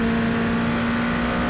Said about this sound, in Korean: 와, 차들 지나가는 거 보세요